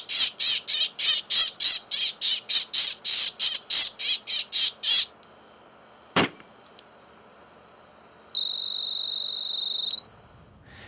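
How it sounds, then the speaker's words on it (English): Bird distress calls blare from a propane cannon scare system fitted with 20 speakers at an airport: a fast run of loud, evenly spaced chirping pulses, then long sustained electronic whistling tones that slide in pitch, with a sharp bang partway through. "This is a propane cannon with an audible distress call on it with 20 speakers."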